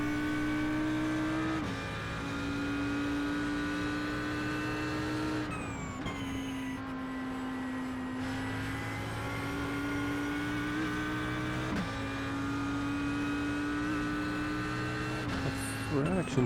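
GT3 race cars in a racing video game, a McLaren closing on a Ferrari, engines droning loud and steady with pitch rising and dropping through gear changes, under commentary.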